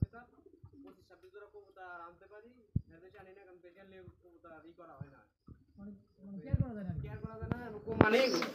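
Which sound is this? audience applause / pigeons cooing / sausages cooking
pigeons cooing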